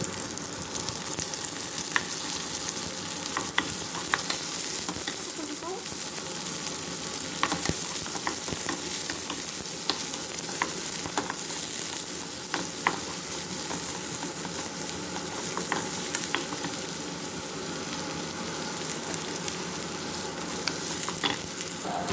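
Chopped garlic and onion sauté in oil in a frying pan, a continuous close sizzle with frequent scraping and tapping as the spatula stirs, no talking.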